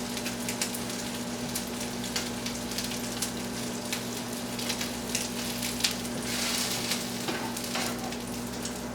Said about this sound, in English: how that is grilling like French toast